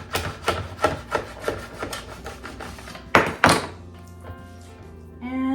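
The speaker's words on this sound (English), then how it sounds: "And it comes with the coated chef's knife. I'm just gonna cut it in half." A coated chef's knife saws a bagel in half with a run of rhythmic rasping strokes, then two sharp, louder thunks as the blade hits the board, followed by quieter rubbing near the end.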